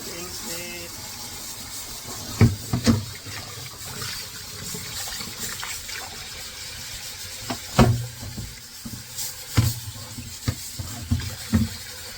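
Water runs steadily from a tap while a red snapper is rinsed in a kitchen, a continuous gush broken by several sharp knocks and splashes as the fish is handled.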